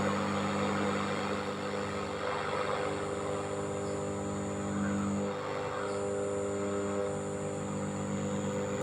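A National Panasonic tape recorder runs with a steady, faint mechanical hum and motor whir, constant throughout with no voices.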